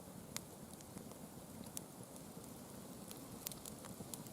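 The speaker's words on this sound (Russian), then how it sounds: "Дождь пошел" Rain begins falling outdoors at a barbecue, scattered drops ticking faintly on surfaces amid a low, steady hiss, quiet and irregular with no voices.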